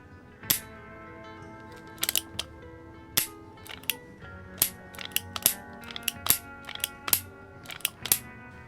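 Metallic clicks from the trigger and hammer of a single-action Wild West style Heritage Barkeep revolver, scattered sharp snaps in irregular clusters, close and fairly quiet, with no talking.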